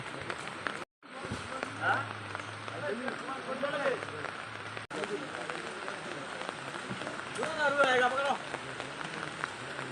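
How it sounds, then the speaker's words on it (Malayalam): Steady heavy rain patters loudly throughout at a construction site during concrete casting of a main roof slab, while someone talks over it, with brief pauses in the sound. "ഫുള്ള് മഴയാണ്"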